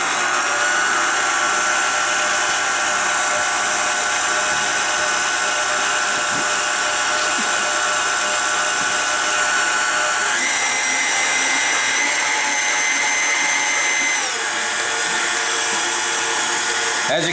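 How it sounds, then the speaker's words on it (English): A stand mixer mixes hamburger bun dough in a loud, continuous motor whine that holds steady throughout, shifting slightly in pitch partway through. "Now you want to lock your mixer in place and turn it on."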